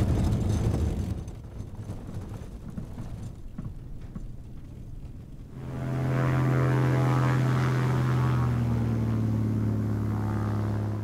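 Propeller airplane landing near a remote cabin in northeastern Alaska: a steady, loud engine drone with tonal hum that builds and holds close by, with no voices.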